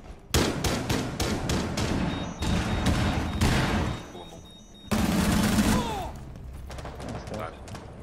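Rapid automatic fire in Rainbow Six Siege pummels a deployable mirror, coming as loud, close bursts that stop and start, with an impact clatter and players talking over the shooting.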